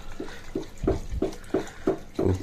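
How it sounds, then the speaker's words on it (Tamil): A spoon stirs watery rice porridge in a pot, making soft, regular sloshing swirls about every third of a second, close and fairly quiet. "இதை ஒரு ஸ்பூன் வச்சு நல்லா கிளறோம்."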